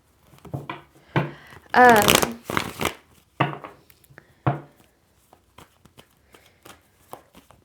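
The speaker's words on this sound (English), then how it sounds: "I'm going to reshuffle that." A deck of tarot cards is reshuffled in a few close riffling bursts and soft slaps, followed by scattered light card taps, and a voice speaks through part of it.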